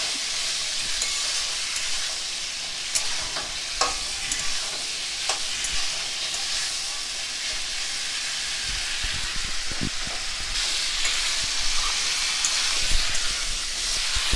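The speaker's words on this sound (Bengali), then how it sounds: "ছোলাগুলো দিয়ে দিচ্ছি। এবার ভালো করে একটু কষিয়ে নেব।" Chickpeas stirred and fried in a pan with spices for chana, a steady loud sizzle with scraping stirs and occasional clatters of the spoon throughout, no voices.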